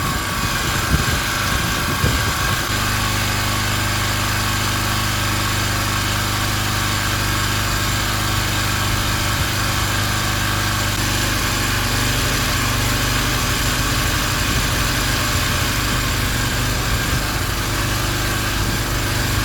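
A cold generator engine runs steadily while warming up, a loud continuous drone with a rougher, uneven stretch in the first few seconds before settling into an even hum.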